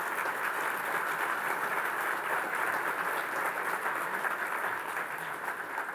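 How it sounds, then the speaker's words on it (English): Awards-ceremony audience applauding the organization's board members at the Reuben Awards, a dense, sustained wall of clapping at even loudness for the full stretch. "please applaud them"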